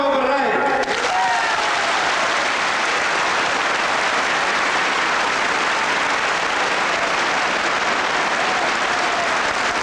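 A large political crowd in 1975 Portugal applauds Mario Soares, dense continuous clapping that swells quickly and holds loud and steady for nearly ten seconds.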